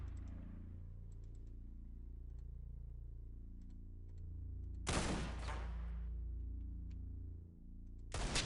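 Two loud, close shotgun blasts from a small shotgun in The Xcom Files, each a sharp broadband bang with a short tail, the second cut off at the very end, set against a low droning game ambience.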